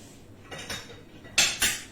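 A silicone whisk knocks and scrapes in a saucepan of panna cotta mixture in a home kitchen, a few soft muffled clinks in two short pairs.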